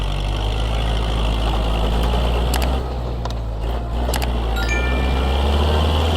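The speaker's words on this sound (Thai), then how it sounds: "พามาดูรถไถดันดินครับ" A heavy diesel bulldozer engine idles with a deep, steady rumble close by, its low drone continuous throughout with faint clanks and whines on top.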